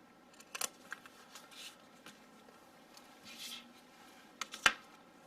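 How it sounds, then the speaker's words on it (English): Scissors snip through a paper planner page in a quiet room, a few sharp close cuts scattered among soft rustling and shuffling of paper. "I think what I'm going to do is just cut this side off."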